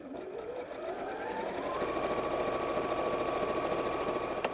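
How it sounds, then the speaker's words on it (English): Sewing machine stitching the back seam of a fabric bag, one continuous whirring run that rises slightly in pitch as it speeds up, close and steady. "sew down the back seam with a normal seam allowance"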